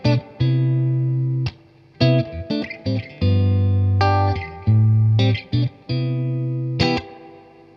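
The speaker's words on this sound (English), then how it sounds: "it's got a spring reverb tank. It's actually a little bit dark sounding." Electric guitar chords ring out through a Fender '68 Deluxe Reverb amp with a washy, slightly dark spring reverb tail, played in short strummed phrases that stop and restart, loud and close.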